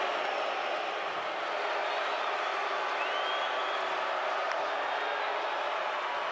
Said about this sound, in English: now the boos come out